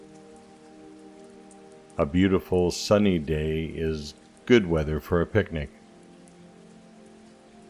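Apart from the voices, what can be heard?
rain falling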